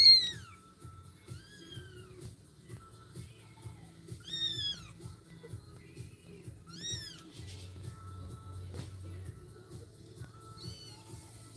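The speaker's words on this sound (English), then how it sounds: "Those meows are just so cute." Kitten meowing several times in short, rising-falling calls spread across the stretch, fairly clear over a low background hum.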